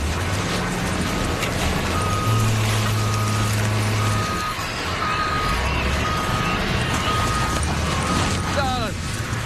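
A truck sounds steady reversing beeps over a rumbling engine, with hissing air brakes and mechanical clatter near the end.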